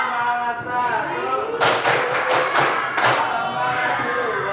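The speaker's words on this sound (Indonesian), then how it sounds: "Tepuk semangat 1" Schoolchildren in a classroom clap together in a rhythmic spirit-clap routine, with a short group of sharp, loud claps in a quick pattern, a pause, then another burst, while voices speak around them.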